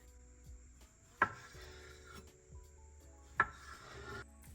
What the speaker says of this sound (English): First, we cut the salmon lengthwise.